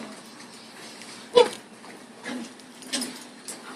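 A dog, among puppies and kids, gives a sharp short yelp followed by a few softer whimpering yips over a quiet background.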